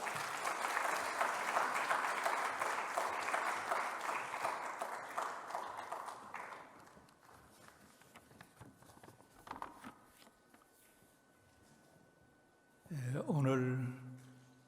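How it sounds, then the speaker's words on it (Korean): Audience at a church prayer gathering applauding to welcome a speaker: loud dense clapping for about six seconds that thins and fades, followed by scattered sounds, then a brief tonal burst near the end. "박수로 맞이해 주시기 바랍니다"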